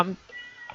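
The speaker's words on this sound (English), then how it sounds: "It's a very vocal cat" A very vocal house cat gives a short, close meow, followed by a fainter second cry.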